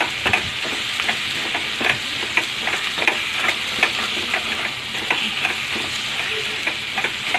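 Bitter gourd thokku fries in a pan with a steady close sizzle, while a spoon stirs and scrapes at a regular rhythm, giving repeated short clicks over the hiss; no one speaks. Mango powder is being added to the mix.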